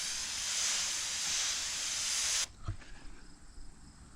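A spray bottle mists HydroSilex coating in a single steady, close hiss lasting a couple of seconds, which stops abruptly with a faint click, followed by quiet background.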